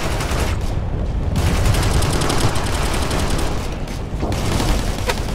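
Sustained automatic gunfire and rifle bursts rattle continuously in an Operation Flashpoint: Red River campaign firefight, loud and dense with near and distant shots overlapping, no talking.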